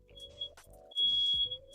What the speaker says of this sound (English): I hear a beep in the background.